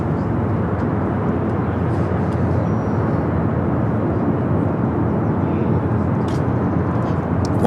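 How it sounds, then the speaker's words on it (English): A Japan Airlines Airbus A350-1000 takes off from the south side of Los Angeles International Airport, with a loud, unbroken jet engine roar filling the whole stretch and no talking. "Japan Airlines Flight 15, the A350 1000, taking off on the south side."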